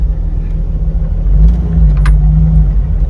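A Jeep TJ crawls steadily in 4 low, its engine giving a loud, continuous low rumble close by with a slight rise in pitch partway through and no talking.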